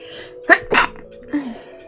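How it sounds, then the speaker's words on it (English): A single sharp sneeze, close and loud, followed by a shorter second burst and a faint vocal sound afterward. "I have to sneeze."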